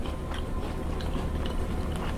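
Close chewing of a crunchy homemade snickerdoodle cookie, with brief, irregular crunches and soft mouth sounds over a short moment and no talking.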